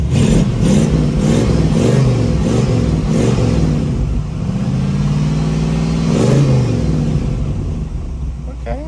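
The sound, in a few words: 1986 Oldsmobile Cutlass lowrider engine revving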